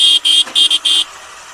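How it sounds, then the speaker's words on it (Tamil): Horn of a motorcycle or car honking while overtaking a lorry: four sharp blasts in a quick uneven rhythm, loud and close, then ending into faint road noise. "எப்போயுமே ஓவர்டேக் அடிக்கும் போது ஹார்ன் அடிச்சுக்கோங்க"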